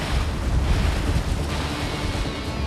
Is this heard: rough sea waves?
yes